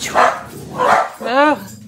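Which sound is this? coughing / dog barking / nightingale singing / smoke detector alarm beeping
dog barking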